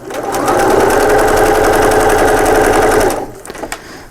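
A sewing machine top stitches a bag lining in a fast, steady, loud run of needle strokes lasting about three seconds, then stops, leaving a few faint clicks.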